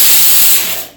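A pressure cooker with peas and a large potato inside vents steam in a loud, close, continuous hiss that fades out over about a second.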